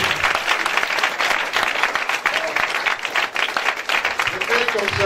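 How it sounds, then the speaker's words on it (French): A church congregation at a Sunday service applauds steadily and fairly loudly throughout, a dense continuous clapping with some crowd noise mixed in. "Ça s'acclame quand même un peu."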